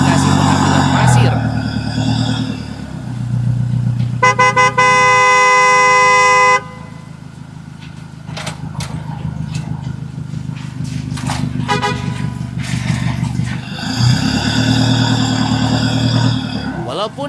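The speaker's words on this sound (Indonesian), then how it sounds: "Suara mesin yang nyaring membuat perjalanan terasa semakin seru" A blue Indonesian 'oleng' dump truck heading to a sand pit runs with a loud, steady engine drone, broken by long bursts of a bright, tonal truck horn, while a voice talks over it.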